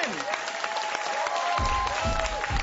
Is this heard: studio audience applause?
yes